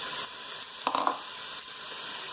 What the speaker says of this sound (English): You want to throw it in there and hear that lovely sizzle.